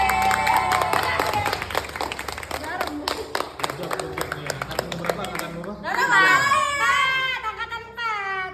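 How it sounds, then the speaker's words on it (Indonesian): Classroom applause after a density and Archimedes buoyancy experiment, scattered clapping mixed with children's chatter and voices, then a child's excited high-pitched shouting near the end. "Udah, tepuk tangan semuanya ya."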